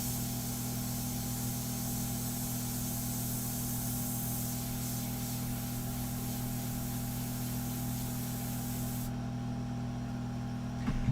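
Airbrush spraying India ink onto a portrait, a steady close hiss running almost unbroken with a constant compressor hum underneath, the spray stopping shortly before the end.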